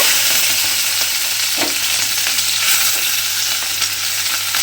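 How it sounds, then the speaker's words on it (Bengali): Halved okra dropped into hot oil in a pan, frying with a strong, even sizzle close by and a brief clatter early on, continuous and unaccompanied by speech. "সেই ঢ্যাঁড়সটা আমি তেলের মধ্যে দিয়ে দেব"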